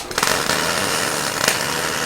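A welder running solid core wire with the shielding gas switched off, giving a harsh, continuous crackling buzz with sputtering spatter bursts throughout, loud and close.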